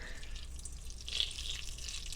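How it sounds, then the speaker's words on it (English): Ice water pours and trickles steadily over butter at close range, a soft continuous splashing with a brief brighter splash midway. "The next step is to put ice water over this."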